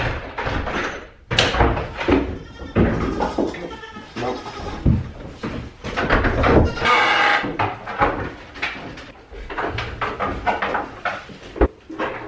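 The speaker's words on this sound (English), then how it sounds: "So we're raising dwarf Nigerian goats. They are dairy goats." Nigerian dwarf dairy goats in a milking room, heard as bleats amid door knocks, cupboard bangs and scraping bumps, a busy, close and uneven clatter.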